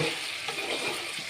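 Steady sizzling of food frying in hot oil, a continuous crackling hiss with no voices.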